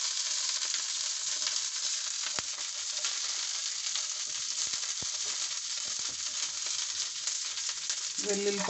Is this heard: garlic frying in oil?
yes